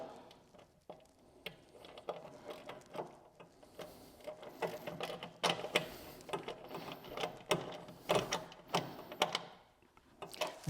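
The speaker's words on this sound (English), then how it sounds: "So basically we just loosen this bolt up, and we can just push that up" Loosening a bolt to adjust the bonnet of a Triumph Spitfire, a quiet run of irregular metallic clicks and ratcheting taps, some in quick bursts, near and faint with no speech.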